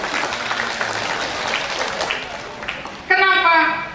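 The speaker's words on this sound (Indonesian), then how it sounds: "Tepuk tangan dulu dong buat kalian dong." Students clapping at an Indonesian Islamic lecture: a wash of crowd applause that runs beneath a voice and then fades, with talk and a louder voice breaking in near the end.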